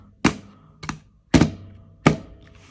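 PSP handheld's plastic UMD disc slot door flipped open and shut with a fingernail, four light, hollow plastic clicks and thunks close up, spaced unevenly, with quiet between.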